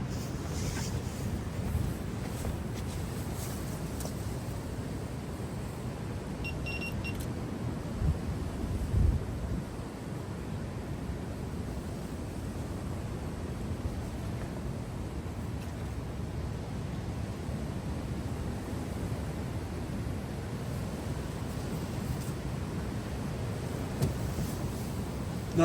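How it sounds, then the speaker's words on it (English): Storm wind buffeting outdoors during storm Daragh on a coastal fishing trip, a steady low rushing roar with microphone gusts throughout, no talk. "Pretty sure that's the wind."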